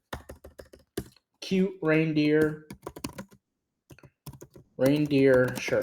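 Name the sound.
typing on a computer keyboard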